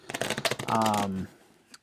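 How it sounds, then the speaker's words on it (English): Playing cards being shuffled for a game of cribbage, a quick burst of close riffling clicks followed by a brief voiced hum, then a last faint tap. "I think I've probably shuffled enough."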